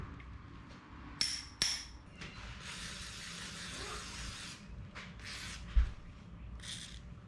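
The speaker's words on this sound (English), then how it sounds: "Locking pliers, the best body hammer around." Locking pliers used as a hammer on a bent door hinge of a 1963 IH Loadstar truck: two sharp metallic knocks close together, then scattered quieter taps and scraping, with shop noise between.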